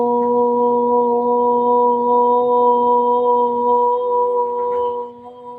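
A single voice sustains a long sung O vowel on the exhale during yoga breathing, one steady tone held for about five seconds, close and clear, before fading out.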